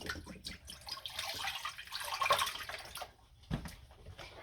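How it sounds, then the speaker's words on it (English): Chicken broth pours into a cooking pot as a steady liquid stream for about three seconds, then tapers to a softer trickle after a brief pause. "You're gonna start with just some basic chicken broth."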